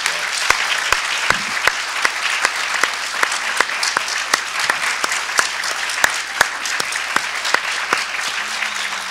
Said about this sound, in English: can we give this panel collectively a round of applause